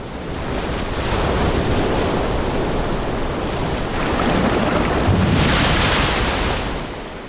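Ocean surf crashes against rocky shore, a continuous loud roar of breaking water and wind that swells twice as waves hit, with no voices.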